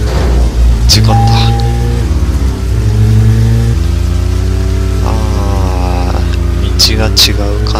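Heavy thunderstorm rain in a racing video game, a constant dense hiss of rainfall layered under a loud droning car engine that shifts pitch as it revs, with voices talking over it.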